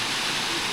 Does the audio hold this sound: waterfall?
yes